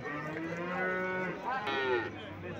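A cow at a livestock market in Mastchoh gives a long, loud, resonant moo that rises and falls over a steady crowd murmur, with a second lowing call overlapping near the end.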